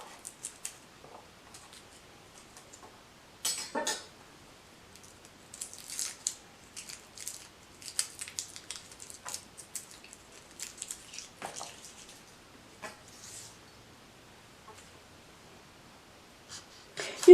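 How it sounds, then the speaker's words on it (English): Garlic cloves being peeled by hand, a run of faint crisp papery crackles and small snaps of dry skin, scattered and irregular, close by and quiet. "I love garlic, so I am going to peel 5 garlic cloves"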